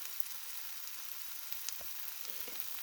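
An egg fries in oil until crispy, giving a soft, steady sizzle with faint crackles, fairly quiet and alone.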